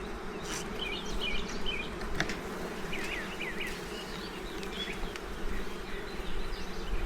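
Honey bees buzzing around an open beehive during an inspection, a dense, continuous drone with individual bees whining past nearby.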